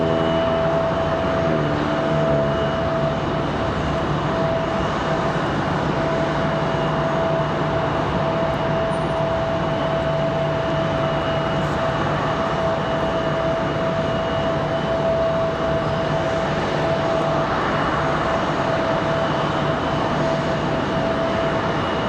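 An airliner arriving at Raleigh-Durham International Airport gives off a continuous engine drone with a steady tonal hum, holding an even, fairly loud level throughout with no voices.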